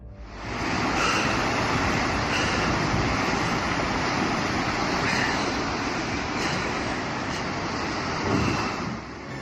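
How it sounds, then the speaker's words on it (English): Floodwaters rushing over a wide, deep road, a continuous loud roar of churning water with a broad, steady wash that swells slightly but never lets up. "Floodwaters have the power to sweep away everything in their path, even a road as wide and deep as this one."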